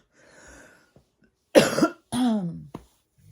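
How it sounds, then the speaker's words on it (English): Someone with a sore, congested throat clears it: a faint rumble, then a loud harsh burst, followed by a rough, drawn-out rasp and a short click, all close to the microphone. "that's clearing my throat all the time"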